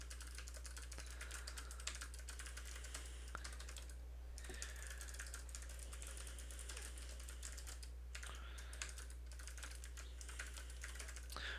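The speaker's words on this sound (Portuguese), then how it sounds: "Eu tenho um teclado com switch azul. É barulhento o teclado, mas vamos ver quanto que ele vai captar." Rapid, continuous typing on a noisy mechanical keyboard with blue switches, its dense clicks running steadily throughout with only brief pauses, close and fairly quiet over a low steady hum.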